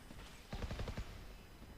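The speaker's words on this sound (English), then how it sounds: "We hear some gunfire being exchanged on A." Gunfire from a Valorant match crackles faintly in a quick burst of about eight rapid shots lasting half a second, set against quiet game ambience.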